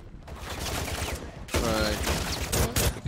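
Bursts of gunfire in the MW3 Zombies game mode, a sustained volley of rapid shots that grows louder and denser midway, with a voice talking over it.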